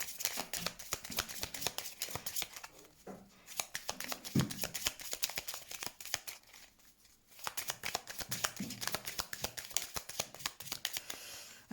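Tarot cards are shuffled in rapid, continuous riffling bursts with brief pauses between, close and crisp, with faint speech nearby.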